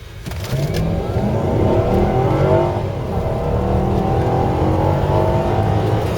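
A Volvo S80 4.4 V8 with Geartronic gearbox accelerating hard from a standstill toward 60 mph, heard from inside the cabin as a loud, steadily climbing engine roar with rising gear pitch and a brief shift dip.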